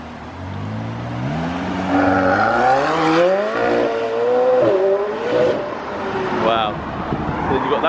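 A car drives past on the road, its engine rising and falling in pitch as it revs through the pass, loud and close, with a voice talking faintly underneath.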